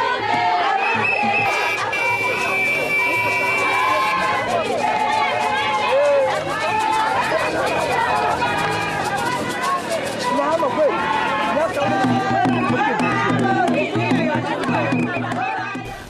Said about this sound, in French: il a eu droit à un accueil délirant de la part des membres et sympathisants du parti